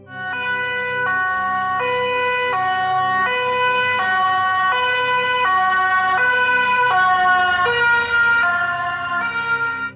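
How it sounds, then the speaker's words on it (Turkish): An ambulance siren wails continuously in a steady two-tone alternation, loud and close, with a faint engine rumble beneath it. "Bir ambulans size doğru yaklaşırken siren sesi daha tiz duyulur, uzaklaşırken ise daha kalın."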